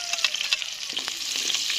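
Cabbage sautéing in a hot pan at a provincial home in Batangas, a steady close sizzle and crackle with occasional stirring scrapes, no talking over it.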